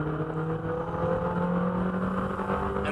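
In-car engine drone from a MINI Challenge race car with an H-pattern gearbox, lapping Wakefield Park: a steady, loud, close whirring note that holds for three seconds, with no voices.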